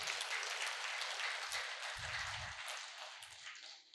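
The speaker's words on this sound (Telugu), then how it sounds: "ఒకసారి గట్టిగా క్లాప్స్ కొడదాం" An audience claps in a dense, steady wash of applause at a two-day music and meditation event, with a few low thumps mixed in, gradually fading toward the end.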